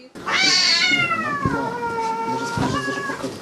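A cat gives a long, drawn-out meow, then a shorter second meow, close and clear with slight background noise.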